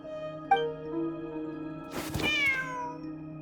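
A cat in the Genshin Impact video game lets out a single clear, close, drawn-out meow over a steady tonal music bed, after a brief chime.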